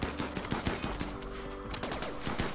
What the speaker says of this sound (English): Okay, yep, they're already shooting.